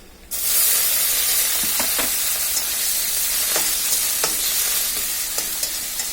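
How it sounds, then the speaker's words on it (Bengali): Washed prawns frying in oil with softened onions for a lau chingri dish, a steady close sizzle with occasional stirring scrapes throughout. "মাছগুলোকে হালকা একটু ভেজে নেব"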